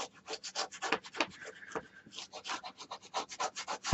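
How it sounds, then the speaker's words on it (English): Score tape on a handmade paper mini album is burnished with a tool, making brisk rapid rubbing strokes in an even back-and-forth rhythm, close and dry with no talk. "I'm going to burnish."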